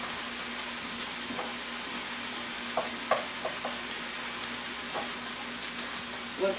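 Grated ginger sautés in a pan for a brown rice and vegetable dish, giving a faint, steady sizzle broken by a few soft stirring scrapes and taps.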